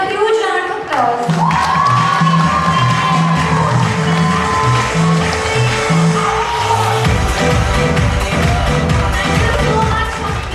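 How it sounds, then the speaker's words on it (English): Loud crowd cheering and applause at the ZOMSA 2014 event run by LSCA Delhi, steady and dense throughout with whoops, music playing underneath. "Please give them a huge round of applause."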